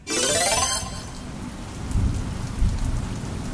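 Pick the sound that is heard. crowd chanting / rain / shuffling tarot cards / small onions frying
rain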